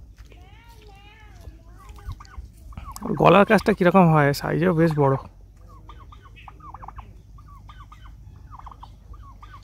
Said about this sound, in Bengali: এই দেখুন বন্ধুরা, টার্কি পাখি।